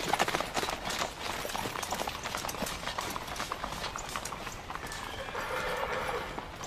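Several horses ride off at a gallop, their hooves clip-clopping in a fast continuous rhythm with a neigh near the start and fading slightly over the stretch.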